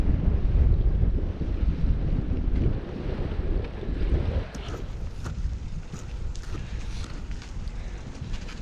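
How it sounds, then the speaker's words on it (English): Ferry sailing across a loch to the island of Lismore, with steady engine rumble, wind buffeting and water wash close by, louder at first and then settling to a lower, even level. "Get ready for embarkation. Sailing off for an adventure."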